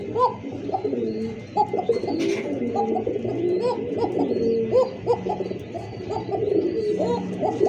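Pigeons in cages at a busy pigeon market, with Pakistani, Giribaj, racer and Bombay breeds among them, coo continuously in overlapping, throaty rolls, close and fairly loud, with scattered chirps filling the background.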